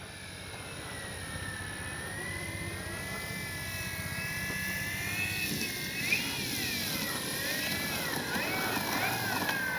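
A 3X Flex RV8 60E RC model airplane flies slowly overhead on approach to land, its electric motor giving a steady, moderately distant whine with wavering pitch that swells slightly as it passes.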